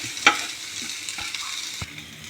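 Okra sautéing in a hot pan, a steady soft sizzle broken by a few sharp spatula scrapes and clinks as it is stirred, fairly quiet, with no talking.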